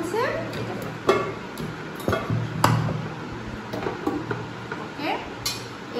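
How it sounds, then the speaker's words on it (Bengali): A metal cooking pot lid handled among new kitchenware, with clinks, knocks and scrapes of metal against metal at irregular intervals, close up and moderately loud. "তো এটা ঢাকনা হচ্ছে এটা"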